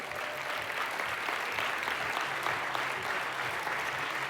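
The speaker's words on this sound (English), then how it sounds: "Everyone give a big round of applause to Christine Bullock." An audience applauds steadily, a dense wash of clapping from many hands that holds at an even level throughout.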